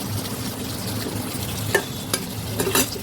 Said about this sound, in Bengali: কষানোর মধ্যে পটল আর আলুটা দিয়ে দিলাম, আবার কষিয়ে নেব।